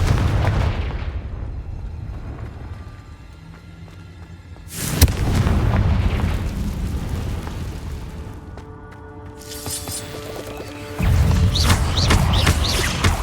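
Confringo explosion spells cast in the Hogwarts Legacy video game detonate as heavy booms, with a loud blast near the start, another around the middle and a third toward the end, each followed by a rumbling, crackling decay.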